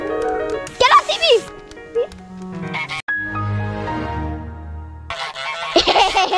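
The goose in Untitled Goose Game lets out a few loud, nasal honks among light game music and tinkling sound effects. Players chat and laugh around the honks.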